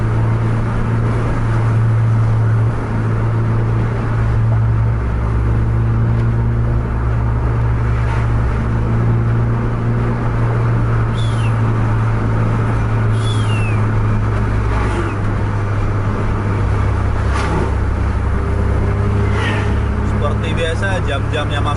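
Two double-decker buses race along a highway, with a constant loud engine drone and deep low rumble under continuous talk, and occasional brief higher squeals and hisses cutting through.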